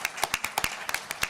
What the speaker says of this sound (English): I feel like we should give Paula a round of applause.